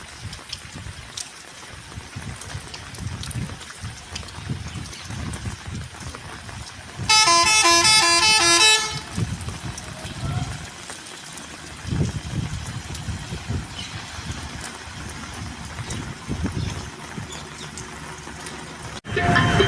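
A bus rumbles steadily, then gives a loud, sustained honk of about two seconds before the engine noise carries on.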